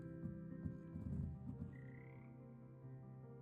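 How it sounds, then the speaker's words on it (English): Frogs croak steadily in a Hogwarts Legacy game scene, a dense chorus of low, pulsing calls that continues throughout at a moderate distance with no voices over it. "I didn't even see the frogs. I could hear them"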